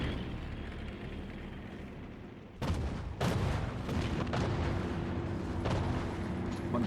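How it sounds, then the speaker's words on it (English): Artillery barrage in the Hearts of Iron 4 video game, a low rumble that breaks into heavy booms and rolling blasts, sustained and loud. "Montgomery launches his offensive with a preliminary artillery barrage"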